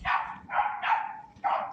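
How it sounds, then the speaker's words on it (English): A next-door neighbor's dog barks, picked up by a home security camera: four loud, close barks in uneven bursts with brief gaps between them. "next-door neighbor's dog barking on their security video when the intruders hopped the fence"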